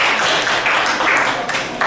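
Classroom applause for a group of students who have just finished presenting, a dense steady patter of many hands clapping at once, close and continuous throughout with no clear gaps.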